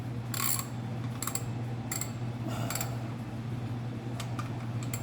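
A ratchet clicks in short bursts while flexplate bolts are snugged down in a zigzag order on a 302 engine, separated by pauses over a steady low mechanical hum.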